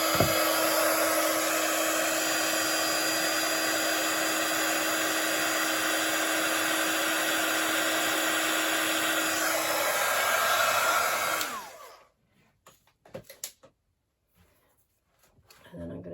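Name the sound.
heat tool blowing hot air on punched paper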